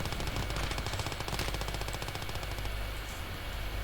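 A .50 caliber machine gun fires long, rapid, steady bursts in Call to Arms – Gates of Hell, with a dense rhythmic rattle. The shots sound fairly distant and muffled against a battlefield rumble.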